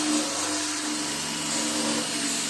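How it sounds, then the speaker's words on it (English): A heavy wire wheel on a power tool grinding rust off the seam of a steel lawn roller, giving a steady, dense whirring roar that stays close and even throughout with no pauses. "I do have a heavy set wire wheel"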